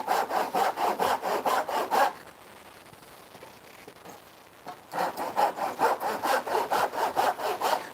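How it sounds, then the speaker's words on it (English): A small hand saw cuts through scrap wood for a bat house in steady rasping back-and-forth strokes, close and loud, with a short pause mid-way before the sawing resumes. "Little saw cut like that."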